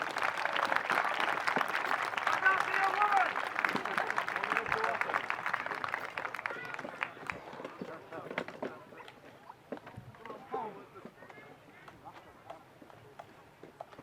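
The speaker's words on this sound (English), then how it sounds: "Give them a round of applause." Spectators at an open-air amphitheatre display of Roman soldiers clap after a staged battle, a fairly distant scatter of applause that is fullest early on and thins into sparse claps with a voice speaking.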